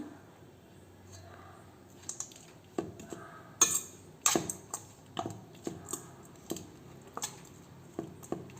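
A spoon works curry leaves pulihora rice around a bowl, giving scattered soft clinks and scrapes, some sharper knocks, at an uneven pace, close by and fairly quiet, with no talking.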